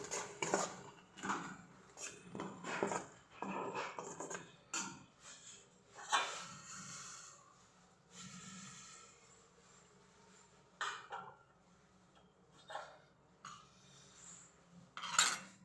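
A spoon scrapes and clinks against a pan while cumin, turmeric, salt and spices are mixed over low heat, in repeated bursts of metallic stirring with short quiet gaps between them.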